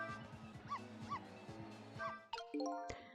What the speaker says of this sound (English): Should I keep barking?